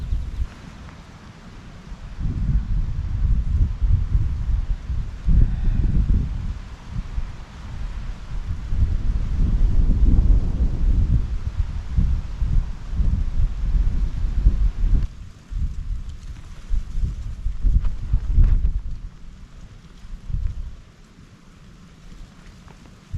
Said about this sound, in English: the wind is dying down